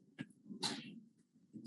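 A single sharp human sneeze bursts out in a quiet room at a court hearing, brief and fairly close, with a soft breathy onset and low background murmur around it.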